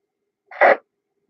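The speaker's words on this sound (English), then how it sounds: "Heard something break the squelch there." An amateur radio simplex net has its squelch broken by a single short burst of static noise, about a third of a second long, with silence before and after.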